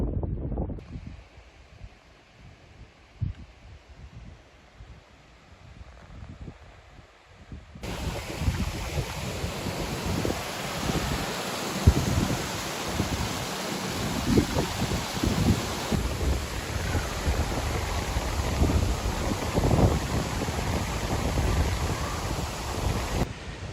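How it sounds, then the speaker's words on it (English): Wind gusting hard across an open mountain summit in the Berwyn hills of Wales, a steady roaring buffet against the microphone that grows louder and fuller partway through and keeps blowing without letup. "Still windy."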